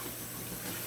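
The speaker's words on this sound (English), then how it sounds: "So we need 1 cup, and I'm using 1 cup of filtered water." Filtered water pours steadily into a measuring cup in a home kitchen while pizza dough is being made, a close, continuous splashing stream with no talking.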